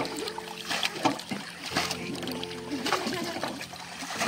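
Oars splash and water sloshes around a crowded small wooden rowboat, with irregular dips and trickles and a hum of background noise.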